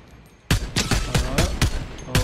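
Rapid, loud gunshots in Fortnite, a video game, fired as a string of about seven or eight sharp cracks in quick succession after a quiet moment.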